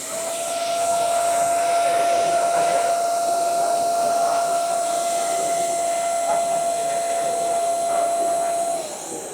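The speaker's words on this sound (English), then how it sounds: "Then you have the vacuum arm." A record cleaning machine's vacuum arm sucks cleaning fluid off a vinyl record, a loud steady whooshing drone with a fixed whine that runs without a break for about nine seconds, then tails off.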